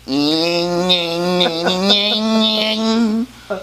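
A voice imitates a buzzing bee with a sustained, nasal, wavering drone that holds steady for about three seconds, then cuts off abruptly, followed by a brief vocal sound.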